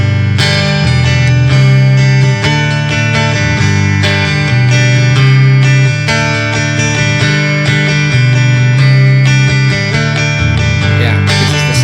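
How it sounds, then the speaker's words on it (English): A recorded guitar track plays back in a digital audio workstation: loud, sustained strummed chords with a steady low bass foundation that runs continuously, with no voices. "Yeah, this is the sound of the guitar."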